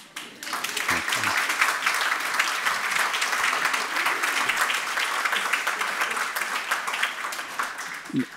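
A congregation bursts into sustained applause after a story in a sermon, loud and dense clapping that holds steady for several seconds before tapering, with faint voices near the start and end.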